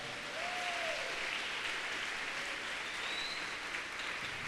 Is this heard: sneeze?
no